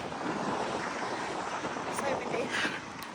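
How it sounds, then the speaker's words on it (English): Strong wind buffets the microphone during an outdoor long run, a loud continuous roar up close with gusty swells across the moment. "it's super windy"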